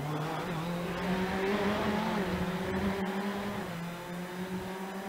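A race car in iRacing at Sebring brakes hard into the hairpin, its engine note dropping, then picks up again as it comes back on the throttle. The engine drones steadily and fairly close throughout, with no voices over it.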